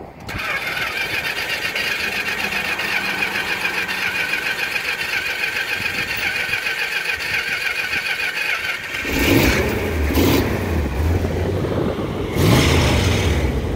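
A 1965 Chrysler 300 V8 runs with a steady mechanical clatter, then roars louder as it is revved in bursts near the end, close by with faint talk.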